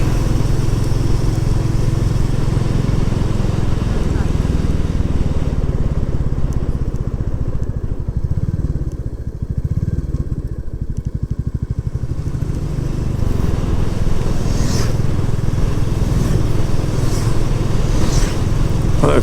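A Royal Enfield Classic 350 motorcycle drones loudly and steadily while riding along a narrow country road, with wind rush throughout and other bikes briefly whooshing past near the end; no talking.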